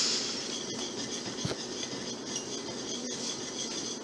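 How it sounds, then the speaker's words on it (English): Organic caramel sauce whisked in a pot, a soft continuous metallic rasping and scraping of the whisk against the pan, close and steady with a slight clink midway, no talking. "Okay, so I've been whisking this for about 45 seconds."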